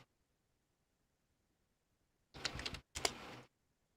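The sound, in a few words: typing on a computer keyboard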